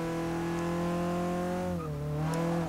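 A 1967 Volvo 123GT's high-compression inline-four in Forza Motorsport 6 hums at a steady pitch, then dips briefly as if shifting before climbing again, loud and alone throughout.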